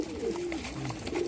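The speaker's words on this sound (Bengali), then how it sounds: "লফটের ভিতরে যে কবুতর রয়েছে, এটা চোখ কালো কি কাগজি" Madras pigeons cooing softly inside a loft, a couple of low, rolling coos close by with quiet room ambience around them.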